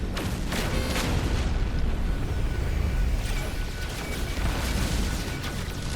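A destroyed Sentinel ship in No Man's Sky blows apart in a loud, rumbling boom that fills the air with continuous crackling, roaring explosion noise for several seconds.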